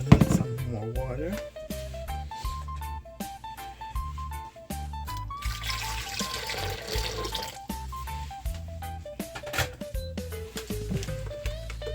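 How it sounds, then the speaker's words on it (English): Water poured into oats for porridge, running and splashing in a steady stream through the middle, under continual background music and some talking. "I'm gonna add some more water."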